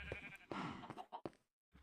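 Sheep bleating in a Minecraft modpack (OceanBlock 2), a few short cries heard alone at moderate volume with brief gaps and silence near the end.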